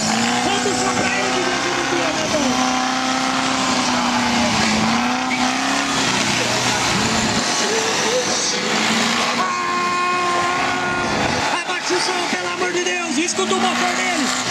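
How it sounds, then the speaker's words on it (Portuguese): Off-road buggy race car engine racing at a Gaiola Cross event in Barra do Jacaré, loud and continuous with revving pitch changes and tire noise throughout, under an excited commentator's voice. "Escuta o motor dele, bota pra derreter"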